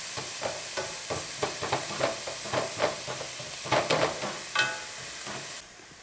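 Prosciutto and onions sizzle in a pan while being stirred, a steady close hiss broken by repeated scraping strokes that stop abruptly near the end.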